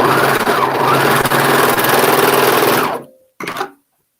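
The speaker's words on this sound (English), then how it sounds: "get the individual sides sewn together and then sewing the front and the back" A sewing machine stitches pants together with a loud, steady whirring run of nearly three seconds, stops, then gives one short burst of stitching.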